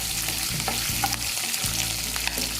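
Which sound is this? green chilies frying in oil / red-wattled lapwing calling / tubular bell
green chilies frying in oil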